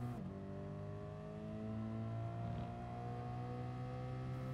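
A race car accelerating at Fuji Speedway in Gran Turismo Sport, its engine whining steadily upward in pitch through the gears, heard alone without talk for several seconds.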